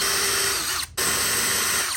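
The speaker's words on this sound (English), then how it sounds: "Now I'm gonna come back to this side and countersink the holes for the wood." Power drill countersinking screw holes in wood, two close high whining bursts separated by a brief pause.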